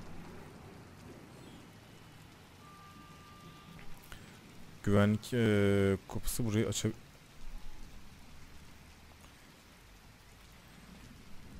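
Steady rain in the video game Watch Dogs patters throughout while a person speaks briefly in Turkish in the middle, loud and close, over the continuous wash of falling water.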